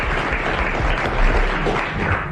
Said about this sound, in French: vous applaudissez Monsieur Ruget de Courbevoie